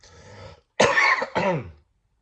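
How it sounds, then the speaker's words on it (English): A person coughs twice in quick succession, close and fairly loud, after a brief throat-clearing breath, then silence. "Sorry, I had to get that cough out."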